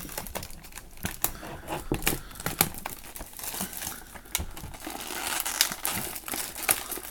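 Plastic shrink wrap being cut and peeled off a portable hard drive box, giving a close run of crinkling, crackling and tearing with sharp irregular snaps for several seconds, no talking.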